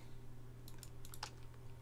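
Computer keyboard arrow keys tapped in a quick cluster of light clicks, close but very quiet over a steady low hum, with no talking.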